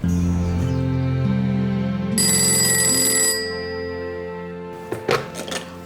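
An incoming call sets a telephone ringing in a household scene. A tonal, melodic electronic ring sounds loudly for several seconds and then fades, followed by a few sharp handling clunks as the receiver is picked up.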